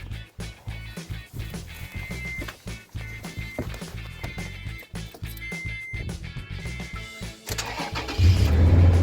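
A car engine cranks on a jump starter, a close, rhythmic whirring churn of the starter motor repeating steadily for several seconds before the engine catches and settles into a louder, steady idle.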